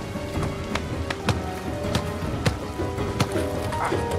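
Heavy rain falling on an outdoor football pitch, a dense steady hiss with scattered louder drop impacts throughout, no voices.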